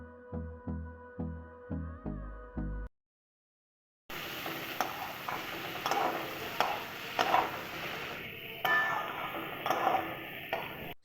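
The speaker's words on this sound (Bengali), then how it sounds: "গাজরগুলো দেওয়ার পর সমস্ত সবজিগুলোকে ভালোভাবে নেড়েচেড়ে নেব।" A few plucked chime-like musical notes fade into a short silence. Then carrots and mixed vegetables for chachari sizzle in a pan as a spatula stirs and clicks against it, steady and close, with no speech.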